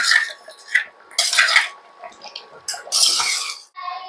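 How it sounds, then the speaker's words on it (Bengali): A spoon or spatula scrapes and clinks against a pan as potato curry (aloo dum) is stirred together with chopped coriander, giving several bursts of close, bright metallic scraping with short pauses between them. "দিয়ে ভালো করে নাড়াচাড়া করে নেবো, সমস্ত ধনেপাতার সাথে আলুর দমটা মিশিয়ে নেবো"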